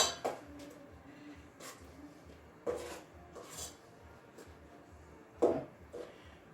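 Two tablespoons scoop muffin batter into moulds, giving a handful of sharp metallic clinks and scrapes spaced a second or two apart over a quiet kitchen background, with no talking.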